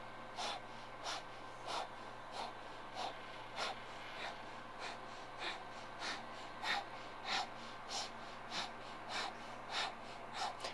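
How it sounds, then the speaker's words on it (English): Rapid, forceful yogic breath-of-fire breathing in a Kundalini yoga class, heard as a steady train of sharp nasal exhalations about every half second, close and fairly soft over a low hum, with no talking. "let's start the breath of fire here"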